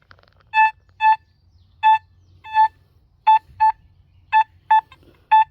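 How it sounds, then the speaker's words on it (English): A metal detector sounds over a buried target in a series of about ten short, clear electronic beeps in uneven pairs and singles, fairly close, over a faint low hum with no talk. "I'm gonna go over it with the metal detector and see if you can see what number it's got there."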